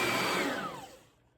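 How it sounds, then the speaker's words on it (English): An Oreck Magnesium vacuum cleaner whines loudly, then its motor pitch falls away as it spins down and shuts off, fading to near quiet within a second and a half. "Let's see what the vacuum does."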